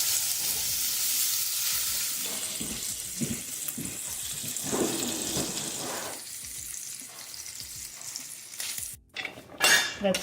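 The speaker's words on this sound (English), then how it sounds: "Meanwhile, we're going to get our bacon going." Bacon frying in a pan, a strong continuous crackling sizzle with intermittent scrapes and clinks of a utensil against the pan, close and unaccompanied by talk.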